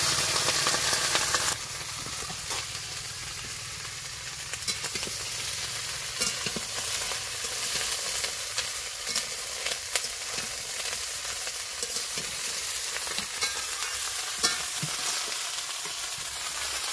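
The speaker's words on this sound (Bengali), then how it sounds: "এখন আমি রান্না করব রুটি আর ব্রকলি ভাজা।" Broccoli fries in a pan for roti and fried broccoli, a steady close sizzle with scattered stirring scrapes and clicks running throughout, and no voices.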